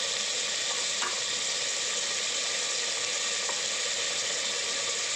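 Tomato, mint and coriander sautéing over raised heat in a pan produce a constant, even sizzle and crackle, close and steady, with a couple of faint clicks.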